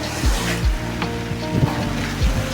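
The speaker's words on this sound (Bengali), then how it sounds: "এই দেখো সমুদ্র কি গর্জন" Sea waves roar at Patenga beach as a constant loud wash, with a few low thuds of surf breaking nearby.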